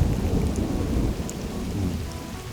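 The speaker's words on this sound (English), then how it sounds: "Listen to the thunder." Thunder rumbles low and steady through a rainstorm in a forest, the deep roll sustained for a few seconds over the constant hiss of rain falling on surfaces, with no voices.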